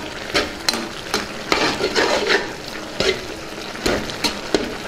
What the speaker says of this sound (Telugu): దీన్ని ఒకసారి బాగా కలుపుకుందాం